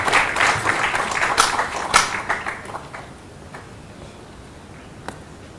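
An audience claps to welcome a guest onto the stage at a cultural event, a burst of fairly close applause that fades after about three seconds into a few scattered claps.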